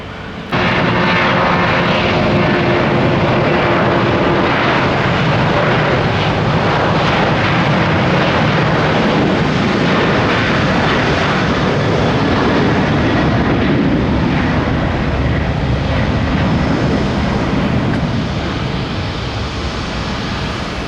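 A fixed-wing airliner takes off from runway 19 right at Tampa, its jet engines a loud, steady, broadband roar that holds at full power throughout, heard up close with no voices.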